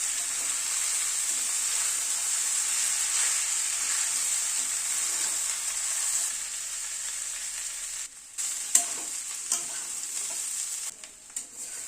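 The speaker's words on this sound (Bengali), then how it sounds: "এবার চালটা দিয়ে সবজির সাথে একটুখানি চালটাকে ভেজে নেব।" Rice being fried with winter vegetables in a pan for khichdi, a steady hissing sizzle broken near the end by a few clinks and scrapes of stirring.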